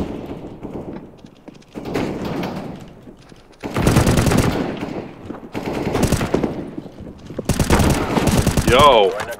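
Automatic gunfire in CS:GO comes in several loud rapid bursts separated by quieter gaps, close and sharp, with a player talking in between.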